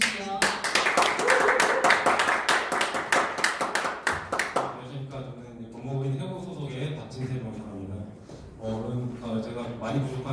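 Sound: audience applause welcoming a lawyer

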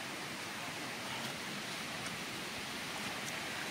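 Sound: heavy rainfall in a village

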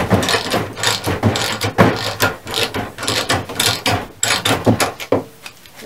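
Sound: printer lift machine raising a heavy printer

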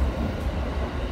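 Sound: Narita Line rapid train running

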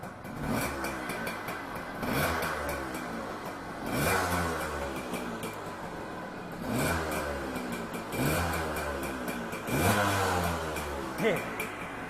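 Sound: motorcycle engine idling

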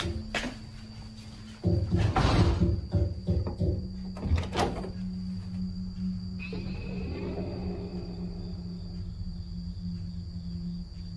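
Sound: bathroom door being broken into

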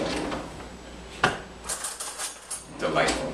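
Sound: rummaging cutlery in a kitchen drawer for a fork

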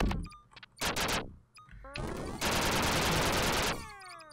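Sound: gun firing in the video game Duck Game

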